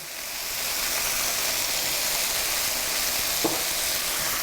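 Mushrooms soften in oil in a pan with a steady, even hiss of frying that runs throughout, broken by one brief clink near the end.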